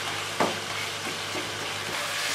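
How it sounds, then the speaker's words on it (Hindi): Peeled tomatoes are stirred into a frying masala for chicken biryani, giving a soft steady sizzle with a sharper spoon scrape early on and a few quieter stirring strokes afterward. "अब हम इसको अच्छे तरीके से इसमें मिक्स कर लेंगे।"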